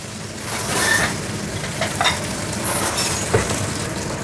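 Fatty beef sizzles steadily in oil in a pan, a dense crackling fry with occasional pops and a stir partway through, close and continuous.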